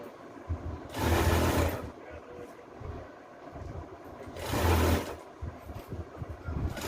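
A sewing machine stitches the sleeve of a kurti in two separate bursts of about a second each, moderately close, with quiet room noise between them.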